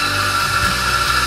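A Mazzer Mini coffee grinder grinds espresso beans, giving a loud, steady, high-pitched mechanical whine for a brief moment with no pauses or voices.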